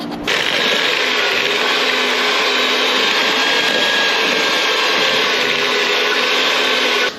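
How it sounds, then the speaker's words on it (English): Steady, loud mechanical whirring of an electric mixer beating sugar, brown sugar, egg and vanilla into cookie dough, running continuously for about seven seconds with no talking. "I've beat this mixture for about 3 minutes until it's light and fluffy"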